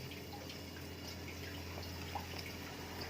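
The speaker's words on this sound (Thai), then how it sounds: "นี่เดือดพรักๆเลย" Soup bubbling at a rolling boil in a pot on a gas stove, a steady dense simmering wash with faint popping, close and continuous with no talk.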